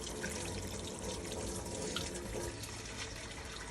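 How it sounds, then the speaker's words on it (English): Tap water runs into a baking pan of smothered cubed steak, a steady close splashing and gurgling stream that stays loud and continuous from start to finish, with no voices. "So I'll just start adding some more water in this right now."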